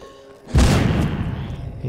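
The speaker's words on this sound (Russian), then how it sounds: "Давай, я гранатку сейчас брошу." A grenade blast in the zombie shooter game The Walking Zombie 2: a sudden loud boom after a quiet moment, followed by a rumbling, noisy tail that fades only slightly.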